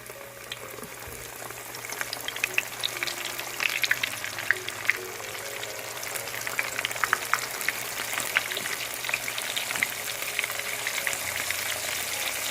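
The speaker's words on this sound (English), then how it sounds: "So let's let this fish fry and we'll take it out in a minute." Catfish pieces fry in hot oil, a loud, continuous crackling sizzle with scattered sharp pops, heard close and steady throughout with no voices.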